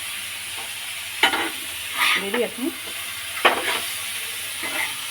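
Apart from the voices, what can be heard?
meat frying in white oil and butter with chilli powder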